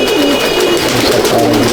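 Rampuri high-flying pigeons coo in a large loft in Laxmikantapur. The soft, rolling calls are close and loud, and they overlap continuously with no talking.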